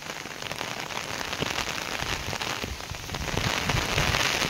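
Light rain falls steadily on surfaces outdoors on a farm, a dense, even patter that grows slightly heavier toward the end, with no voices.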